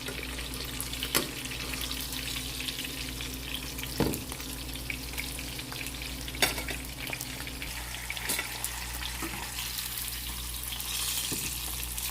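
Dried fish (bulad) fries in oil, giving a steady, soft crackling sizzle throughout with a few sharper pops and clatters, no voices.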